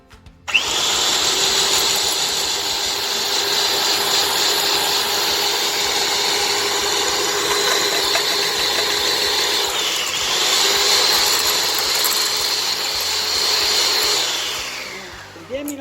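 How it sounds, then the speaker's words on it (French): An electric hand mixer whirs steadily as it beats eggs with sugar, a loud continuous high-pitched motor drone that holds for about fourteen seconds before cutting off. "Je vais bien battre les œufs, Je vais rajouter petit à petit 125 g de sucre"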